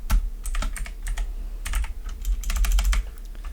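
Fast typing on a computer keyboard while editing a music clip, with uneven bursts of sharp key clicks and short pauses, close and fairly loud, no talking.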